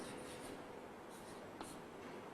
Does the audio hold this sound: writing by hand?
yes